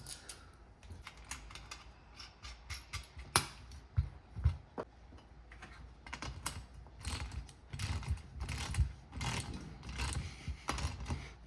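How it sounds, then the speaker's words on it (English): Dry, irregular clicking and ticking from a worn bicycle ratchet with wearing teeth, some clicks soft and muffled, in uneven bursts with quiet gaps between. "Teeth in this ratchet are going out. You can just hear they sound soft"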